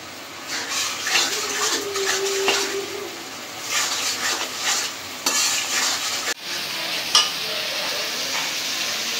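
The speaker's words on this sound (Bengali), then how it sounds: "এখন মশলাটা কষাই নেব।" Spice paste of ground coriander, cumin and salt frying in a pan for a chicken dish, a steady close sizzle broken by repeated scraping stirs, with a faint voice now and then.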